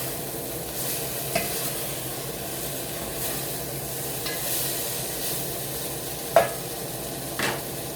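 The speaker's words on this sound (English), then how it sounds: "nice and sizzling" Steady sizzling and hissing of beef browning in a pan, with a few brief clinks and scrapes of stirring.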